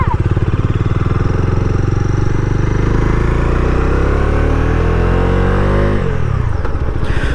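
A 2025 Bajaj Dominar 250 motorcycle rides along an open road, its engine droning loud and steady as revs climb smoothly, then dropping off sharply near the end.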